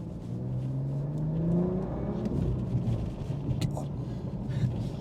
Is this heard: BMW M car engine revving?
yes